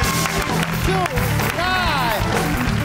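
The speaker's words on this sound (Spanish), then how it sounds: "un aplauso a gente que nos quiera" A late-night television studio audience claps and cheers in a short, busy burst, with loud shouting voices and whoops on top of the clapping.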